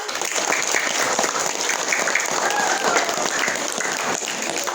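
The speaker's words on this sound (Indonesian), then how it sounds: "Luar biasa, tepuk tangannya dong." An audience applauds after a school theatre performance at an arts festival, close, dense clapping with scattered louder claps and a faint crowd murmur, sustained evenly throughout.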